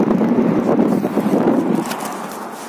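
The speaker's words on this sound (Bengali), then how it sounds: "এখানে দেখুন এখনো বেশ ঠান্ডা হাওয়া" Cold wind blows outdoors in Canada on a chilly holiday, buffeting the microphone with a loud, rough rumble that eases toward the end.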